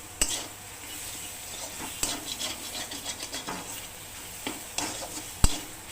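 Spice masala for a Bombay duck (loitta fish) dish is stir-fried in a pan, giving a steady sizzle broken by scraping stirs and a few sharp knocks of the spoon against the pan, with no talking.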